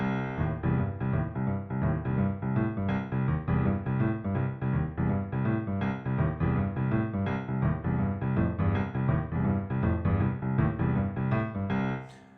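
A driving boogie-woogie piano with a relentless rolling left-hand bass line pounding steadily under chords, loud and continuous.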